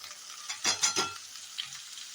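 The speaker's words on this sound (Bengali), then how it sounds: "পেঁয়াজগুলো আমি আলুর সঙ্গে একটু ভালো করে ভাজা ভাজা করে নেব" Sliced onions tossed in with potatoes frying in a pan give a quick stirring scrape and a burst of sizzle, then a softer steady fry, close and alone.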